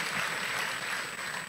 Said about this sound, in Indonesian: tepuk tangan yang terbaik